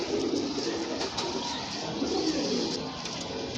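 Rampuri pigeon cooing steadily and close up, a soft continuous murmur of coos running through the whole stretch with no talk over it.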